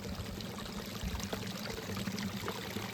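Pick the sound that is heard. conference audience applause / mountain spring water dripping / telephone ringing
mountain spring water dripping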